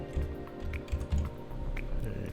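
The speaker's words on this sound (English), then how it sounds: "we'll enter our super secret password" A password is typed on a computer keyboard while a Windows server is being set up: a quick, quiet run of key clicks in short bursts, close by, over a low steady hum.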